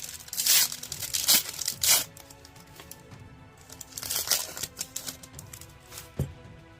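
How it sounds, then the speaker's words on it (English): A trading card scene pack for Avatar The Last Airbender being torn open, with several sharp bursts of paper ripping and crinkling in irregular clusters, close and fairly loud with quieter handling between. "Let's go ahead and open up our scene card pack here."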